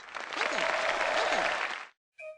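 An audience bursts into cheering and clapping in a sustained wash of applause that cuts off abruptly, followed by a brief electronic tone from a game show.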